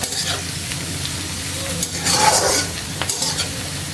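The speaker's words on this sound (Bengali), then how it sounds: "এভাবে একটু নেড়ে চেড়ে আমি একটু লাল লাল করে ভেজে নেব।" Onions fry in a pan without salt or turmeric while being stirred, a close steady sizzle with scraping spatula strokes that swell into a louder burst midway.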